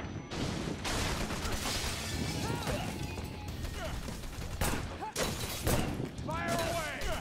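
Shooting in the action game Wanted: Dead, with dense crashing bursts and impacts running throughout, busy and fairly loud, while a voice talks over the game sounds.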